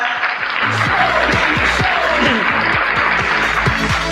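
Hands clapping in a lively room during a casual broadcast about a Pacquiao boxing match, a steady burst of applause-like claps over a loud background with music-like tones.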